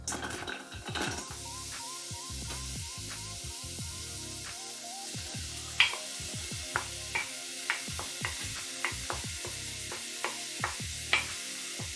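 Chopped onions with a pinch of salt fry in olive oil, a steady close-up sizzle broken by a series of sharp spatula taps and scrapes against the pan, with no talking.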